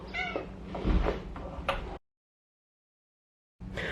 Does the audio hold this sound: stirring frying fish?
no